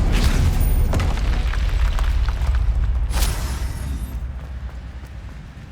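An Expelliarmus spell cast in the Hogwarts Legacy video game, during a fight with a mountain troll, gives a loud booming blast that trails off over several seconds.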